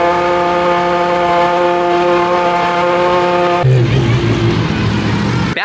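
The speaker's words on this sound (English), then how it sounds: "Look at that Chiron Pure Sport rolling through." A Bugatti Chiron Pure Sport rolls through, giving a loud, steady engine drone close by that shifts to a rougher, lower rumble partway through as it passes.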